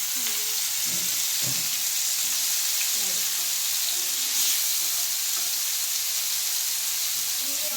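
Fish fries in a pan with masala coating, giving a steady loud sizzle with scattered pops and clinks of a stirring spoon throughout.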